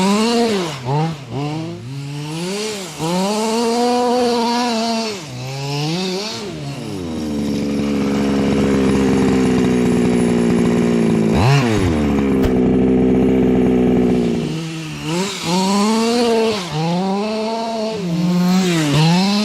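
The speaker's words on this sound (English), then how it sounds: "with the stock muffler on the truck, it's a lot quieter over the tuned pipe." Small gas engine of a Losi 5T RC truck fitted with its stock muffler, buzzing and revving in rising and falling surges, then holding a long steady high-pitched drone before revving again.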